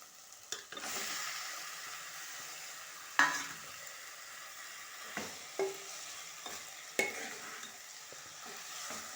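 Chicken curry masala frying in oil while a spoon stirs it, a steady sizzle underneath with several sharp scraping strokes against the pan, close and fairly quiet, no voices.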